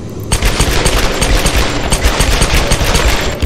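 Rapid automatic gunfire from two guns in the Tomb Raider video game, loud and continuous dense bursts with booming reports throughout.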